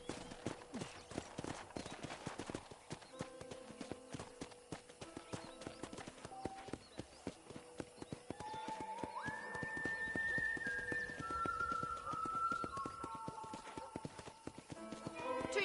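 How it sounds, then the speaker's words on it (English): Horse hooves clip-clop steadily in Red Dead Redemption 2 during a ranch tour, a continuous near trotting rhythm with occasional whinnies, under game music and spoken dialogue. "Get on your horse."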